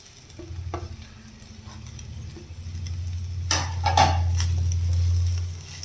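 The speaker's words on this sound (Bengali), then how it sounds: "এবারে এই শ্রেডেড চিকেনটাকে দিয়ে দিচ্ছি।" Shredded chicken with ground dried chilli and spices drops into a hot pan and fries with a steady sizzle, the frying louder in the second half, with a few scrapes and clinks of stirring and pan contact.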